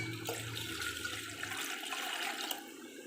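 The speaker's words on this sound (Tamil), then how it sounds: "ரசத்துக்கு தேவையான அளவுக்கு தண்ணி ஊற்றிக்கலாம்." Water gushes and splashes into a cooking pot for rasam, a rushing pour that cuts off midway, leaving a lighter trickle and faint clinks afterward.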